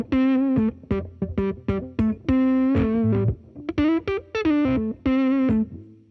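A Gibson electric guitar with its volume rolled down plays a run of clear, ringing single notes and short chords in a steady phrase, alone, with no talking.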